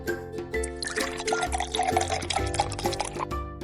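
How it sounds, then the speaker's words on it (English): Pebbles drop one by one into a pot as the water inside slowly rises, giving soft plops and a filling, liquid gurgle under steady background music in an animated children's story. "He picked up pebbles one by one and started dropping them in the pot."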